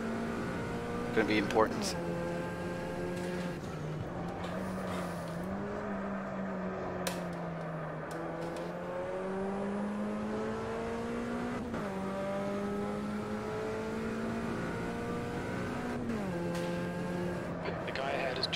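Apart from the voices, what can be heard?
Puma P052 race car engine, racing sim video game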